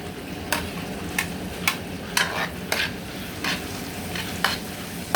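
Garlic and onion sauté in a pan for a chicken curry, a steady sizzle running underneath while a utensil scrapes and stirs with about eight sharp, evenly spaced clicks. Nobody speaks.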